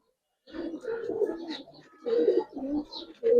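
Young Giribaz pigeons, restless and fidgety, give soft close cooing calls in several short bursts with slight rustling.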